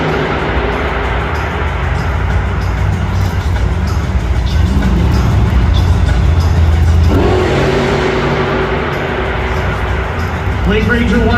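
A monster truck engine at a Monster Jam arena, a loud continuous roar that builds and revs up and down over about ten seconds, while an announcer talks over it.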